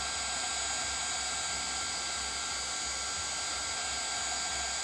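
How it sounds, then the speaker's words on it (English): A heat gun used for embossing on a paper craft runs steadily with a loud, constant whooshing fan roar throughout, close and unbroken. "we're gonna hit the last flower with the heat gun"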